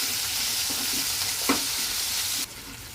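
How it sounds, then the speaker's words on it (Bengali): Paste of onion, cashew, cumin and garlic fries in a pan, a close, steady sizzle with a few soft stirring scrapes and a brief knock, quieting abruptly near the end. "পেঁয়াজ, কাজু আর জিরে আর রসুনের, সেই পেস্টটা আমি এর মধ্যে দিয়ে দিলাম। দিয়ে একটু কিছুক্ষণ ফ্রাই হবে।"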